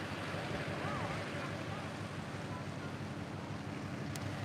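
Floodwater and strong wind rush past during Hurricane Milton at Indian River, a dense, continuous roar of water and gusts buffeting the microphone, steady and loud throughout with no clear voice.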